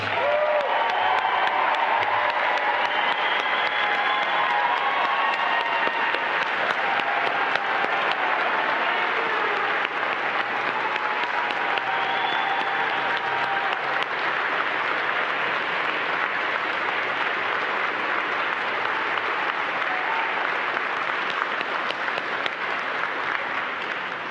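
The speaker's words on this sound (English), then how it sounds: "Let's give them a big round of applause." Sustained applause from a large audience at the NASA 2021 astronaut candidate announcement, an even wash of clapping that holds steady for the whole stretch without breaking.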